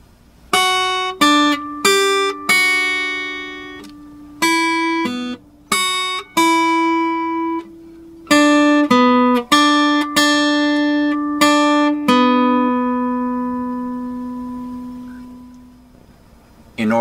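A guitar plays the verse melody of the Skye Boat Song, the Outlander theme, as clear plucked notes in a slow, lilting phrase, some ringing long and the last note sustaining as it fades, close and without talk.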